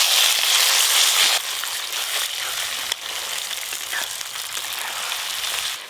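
Chopped onion, tomato and ginger-garlic paste tipped together into hot tempered oil with chilli and cumin seeds, giving a steady, loud broadband sizzle that drops slightly after a sharp start and keeps crackling evenly, with no talk.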